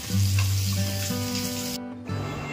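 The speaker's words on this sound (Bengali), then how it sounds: "ফ্রাই করে নিচ্ছি এখন মাছটা" Lote fish fries in a pan with a loud, continuous sizzle close up, accompanied by a steady low hum that briefly drops out near the end.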